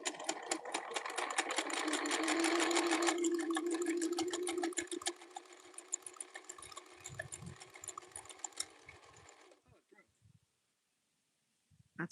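A sewing machine runs fast over old stitching on upcycled denim, a dense mechanical whir that fades out near the end before a brief clatter.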